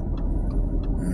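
A car pulls in to park, giving a brief low engine rumble heard up close from inside, with faint faster ticks on top.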